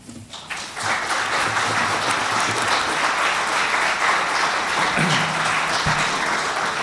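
An indoor audience at a Veteran's Day celebration in an auditorium breaks into sustained, dense applause that swells quickly and holds steady for several seconds.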